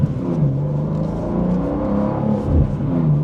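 A 2025 BMW M2 with a manual gearbox hums and revs from inside while driving, a low engine drone rising and easing in steady, moderate swells.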